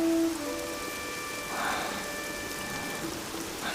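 Heavy rain falls steadily as a soft, even wash of noise from start to finish, moderately faint and with no talking over it.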